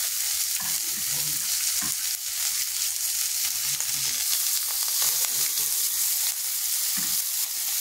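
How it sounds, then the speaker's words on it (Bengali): Chopped curry leaves dropped into hot oil in a pan for potato chop (aloo chop), giving a steady loud sizzle and frying hiss with occasional stirring scrapes, no talk. "এরপর দিয়ে দিচ্ছি এখানে কারি পাতা কুচি।"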